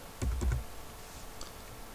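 A few quick keystrokes tap on a computer keyboard while numbers are entered, close and crisp, followed by one faint extra click in a quiet room.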